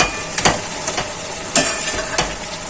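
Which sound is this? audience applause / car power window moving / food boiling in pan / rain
food boiling in pan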